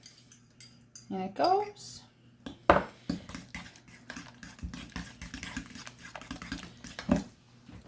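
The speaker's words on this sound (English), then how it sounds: "I'm going to whisk up my egg as well before I add it in" An egg being whisked in a bowl during baking prep, with quick clinking and tapping of utensil against dish in uneven bursts, close and fairly quiet, with a brief spoken remark partway through.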